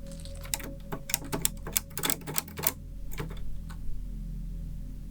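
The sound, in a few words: keys of an old typewriter being pressed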